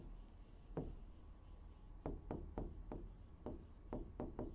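Short scratchy strokes of writing on a board come in a loose, uneven series of distinct marks, fairly close and quiet, with no talking over them.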